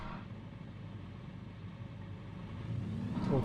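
J3 Cub light airplane engine opening up to full throttle on the runway for takeoff, a steady droning rumble that swells louder toward the end, heard alone.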